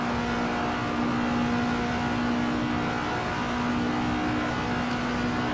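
A vintage race car in the Assetto Corsa racing game holds a steady, loud engine drone in fifth gear, its tone nearly constant with a slight rise and fall, heard alone without talk.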